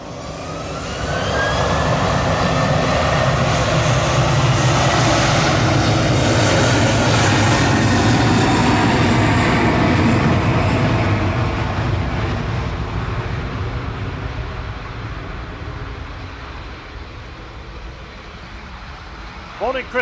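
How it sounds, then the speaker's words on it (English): A Ryanair jet airliner takes off, its engine roar swelling quickly to a loud, sustained rush with a rising whine, then slowly fading into the distance as it climbs away. "Here goes Ryanair to Verona."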